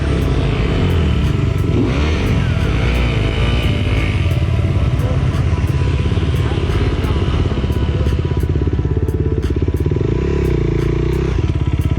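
An enduro dirt bike engine revs steadily and loudly up close as the bike is worked through a tricky clay, roots and rocks climb, with a constant droning roar and clattering underneath.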